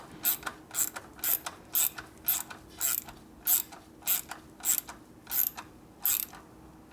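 A wrench ratchets steadily on a stud of a Harley-Davidson panhead FL/FLH engine, a dozen evenly spaced, close, crisp clicking bursts with short pauses between them and no voices.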